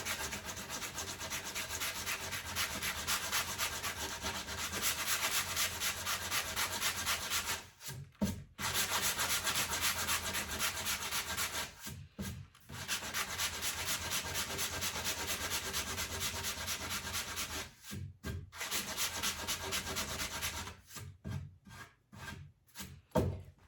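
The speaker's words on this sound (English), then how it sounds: "I'm just gonna go on and sand away the excess, smooth it out." A felt sanding block rubs back and forth over furniture veneer in a steady, dense scratchy hiss, close and loud, broken by a few short pauses and quick strokes near the end.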